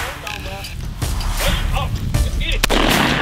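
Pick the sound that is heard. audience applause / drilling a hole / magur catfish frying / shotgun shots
shotgun shots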